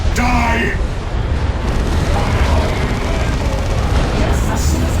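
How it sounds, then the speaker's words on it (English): Bombardment cannons in Dawn of War 2 thunder in a continuous low, rumbling barrage of heavy booms, loud and close, with a voice speaking briefly over the start. "Firing the bombardment cannons."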